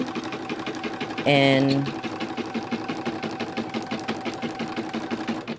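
An embroidery machine runs a placement stitch for eyes on vinyl, its rapid mechanical needle chatter steady and close after a brief louder burst near the start.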